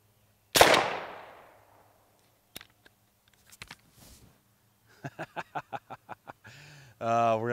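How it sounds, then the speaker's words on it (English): One sharp, loud .22 long rifle hypersonic gunshot rings out toward a target, and a few faint clicks follow. Then a person laughs in short bursts and begins talking. "We're gonna take our first shots. This is 22 long rifle hypersonic."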